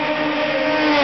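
A 2026 Toyota Corolla L with a 2-litre, 169 hp engine, heard as a loud, steady engine drone with a sustained tonal whine holding even throughout, with no speech.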